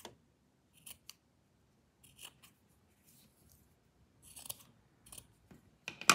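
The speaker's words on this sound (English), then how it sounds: "you can cut some of that seam allowance off to reduce the bulk." Sharp scissors trimming the seam allowance on a sewn fabric suit, a few quiet, separate snips spaced irregularly, growing more frequent and crisper toward the end against a near-silent background.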